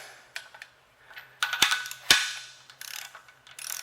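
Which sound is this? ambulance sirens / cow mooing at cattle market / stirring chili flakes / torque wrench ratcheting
torque wrench ratcheting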